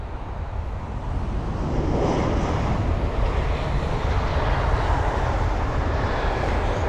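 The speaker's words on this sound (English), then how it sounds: "So yes, the Air France A319 from Nice." Air France Airbus A319 arriving at Heathrow from Nice, a steady broadband jet roar mixed with wind rumble that swells slightly and holds at a constant level throughout.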